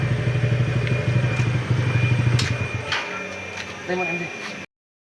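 A TVS motorcycle engine idles steadily after RPM tuning, a close, even rumble with mechanical clatter and a brief revving change near the end before cutting off.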